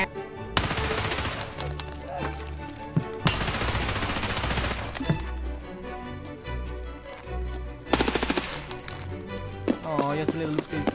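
Gunfire in the video game Escape from Tarkov comes in loud, rapid bursts separated by short pauses, with a few lighter single shots near the end.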